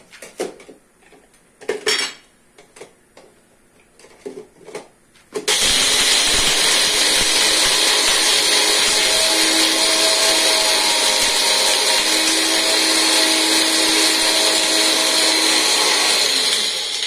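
A mixer grinder whirs loudly and steadily as it grinds cumin seeds, following a few clinks of a jar and lid being set in place.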